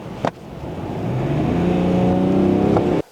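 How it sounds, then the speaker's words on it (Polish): Car with an 8-speed automatic gearbox pulling hard at full throttle from about 70 km/h, engine note rising steadily and loud for a few seconds before cutting off abruptly, no voices. "A teraz przechodzimy w tryb pełni automatyczny i mając 70 na godzinę wciskamy mocno gaz."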